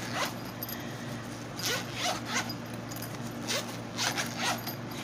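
A zipper on a compartment of a coloring pencil case is pulled in several short, scratchy bursts, close and clear over a faint steady hum.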